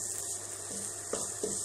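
Chopped onion, garlic, green chili and ginger sizzle in a pan for paneer masala, a soft steady hiss with a few light stirring clacks near the end.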